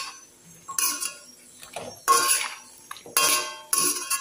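Metal plates and cooking pots are handled in a home kitchen, with several loud clattering bursts of clinks and scrapes separated by quieter pauses.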